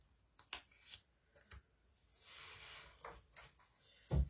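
Tarot cards being shuffled and drawn for a nine-card spread, giving brief papery riffles and soft slaps spaced irregularly, with a longer rustling shuffle in the middle and a sharp thump on a table at the end; no voices.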